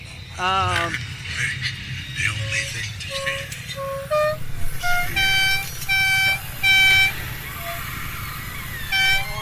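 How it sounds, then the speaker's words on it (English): A custom musical air horn on a 2012 Arctic Cat Wildcat UTV plays a series of loud, tonal blasts at shifting pitches, with a voice talking underneath at the start. "FEM horns definitely for any of your custom air horn needs"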